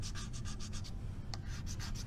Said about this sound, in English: the vinyl doesn't stick to it very well, so you have to really squeegee the heck out of it.